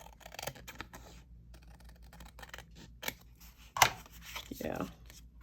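Scissors snip a part off in a few short, close crisp cuts, one clearly louder, amid quiet handling rustle.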